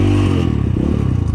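An Apollo 250rx dirt bike on a trail gives a loud, near engine drone that shifts into rapid pulsing as the throttle changes, with rough clattering underneath.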